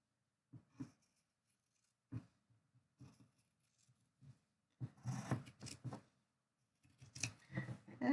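Scissors cutting along the outside edge of tape, with scattered snips and then denser bursts of cutting and rustling, close and fairly quiet, without speech.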